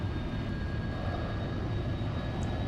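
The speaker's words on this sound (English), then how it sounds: "So let's power up the engines and we'll take off." Airliner engines in a flight simulator game hum at idle, a steady low drone with a faint whine, continuous and fairly quiet, with no talk.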